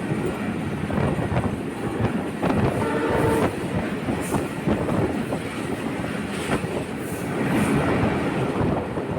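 A passenger train on the Dhaka–Rajshahi route rumbling steadily along the rails, with a broad continuous roar and faint rhythmic clatter throughout, fairly close and loud.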